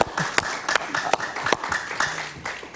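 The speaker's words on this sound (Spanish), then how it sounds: "Un aplauso para Guillermo Lasso." Studio audience applause on a Spanish-language television talk show, a few seconds of scattered, moderately loud clapping with sharp individual claps standing out.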